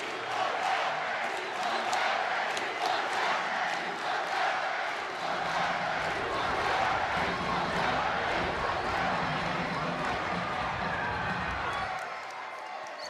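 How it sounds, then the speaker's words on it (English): A loud, steady ice hockey arena crowd roars and cheers throughout at a University of Arizona Wildcats versus Arizona State Sun Devils game, a dense wall of voices that eases slightly near the end. "obviously the crowd loves it"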